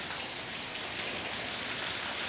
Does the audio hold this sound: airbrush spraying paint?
no